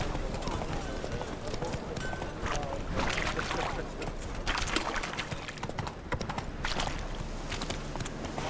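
Horse hooves clip-clop steadily at a walking pace in The Witcher 3, mixed with dense ambient game sound and background chatter throughout.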